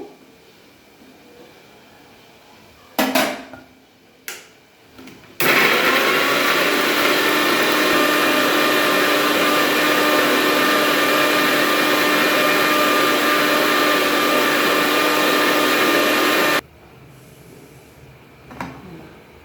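A blender runs loudly and steadily for about eleven seconds, a whirring grind making a paste for malai kofta, preceded by a few brief clunks and followed by quiet handling noises.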